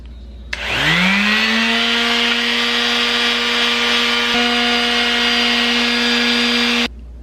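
A power sander spins up to a steady, high whine while working a prop crown with coarse to fine grit sandpaper, running loud and continuous for about six seconds before cutting off.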